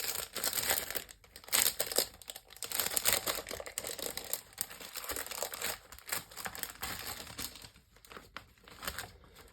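A plastic pouch holding stencils is opened and handled, producing close, irregular crinkling and rustling that swells and fades in uneven bursts for nearly ten seconds.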